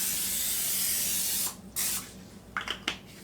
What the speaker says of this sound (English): So I'm just going to spray it so it won't stick